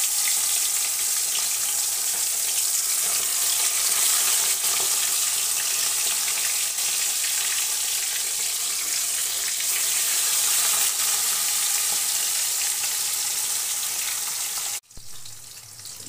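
Bata fish fries in a pan with a steady, bright sizzle that runs continuously for about fifteen seconds before abruptly dropping away.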